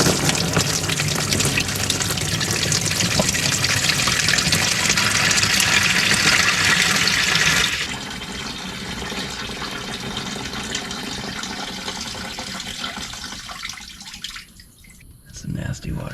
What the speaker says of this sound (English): probably a good time to go ahead and drain this airbox